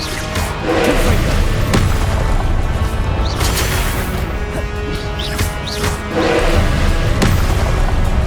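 Confringo spells cast in Hogwarts Legacy burst in loud booming blasts, several heavy thuds and crashes spaced a few seconds apart over a dense, rumbling game soundscape.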